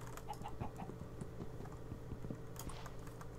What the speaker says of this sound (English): I need to kill this chicken.